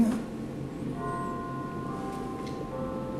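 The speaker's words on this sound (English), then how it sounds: "Bells will be ringing." Church bells ring out at six o'clock in the evening, a faint sustained chime tone hanging over a steady outdoor background hum with no voices.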